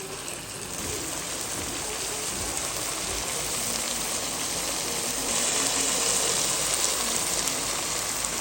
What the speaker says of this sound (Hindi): इसको हम 9 से 10 मिनट के लिए मीडियम फ्लेम पे फ्राई करेंगे।